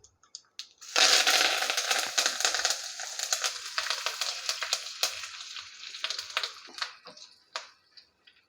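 Curry leaves hit hot oil with urad dal fried golden and a pinch of asafoetida, erupting in a loud, dense crackle and spatter that gradually thins into scattered pops, with no talking.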